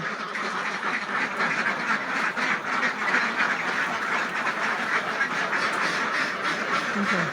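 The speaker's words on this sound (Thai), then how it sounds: "เช้านี้จะพามาดูบรรยากาศการให้อาหารเป็ด" A flock of egg-laying ducks being fed in the morning quacks steadily and densely, many birds calling at once, fairly close, with no pauses throughout.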